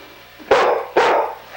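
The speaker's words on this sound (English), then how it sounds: "He's barking at the camera." Two sharp dog barks, close by, about half a second apart, with nothing else around them.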